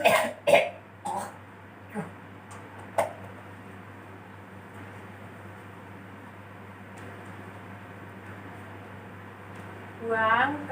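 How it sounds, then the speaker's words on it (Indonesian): A patient coughs during a deep-breathing and effective-cough exercise, giving several sharp, close coughs early on and a throat clear near the end, with a soft fan-like hum between them. "tahan, batukkan Pak"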